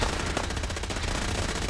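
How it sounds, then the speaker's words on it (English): Rapid automatic gunfire from an enemy in Fallout 4, a dense, loud burst of fast repeated shots lasting under two seconds with no pauses. "why are you still trying to shoot me?"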